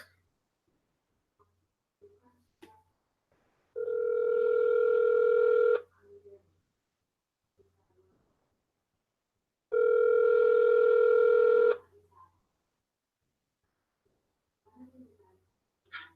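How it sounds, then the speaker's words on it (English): A telephone line plays two long, steady tones, each about two seconds and separated by a few seconds of quiet, heard clearly over a phone call with faint voice sounds between. "Let me make a phone call real quick."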